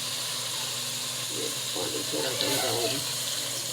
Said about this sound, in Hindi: पानी थोड़ा सा लगाऊंगी कि आलू जो है ना वो गल जाए हमारे।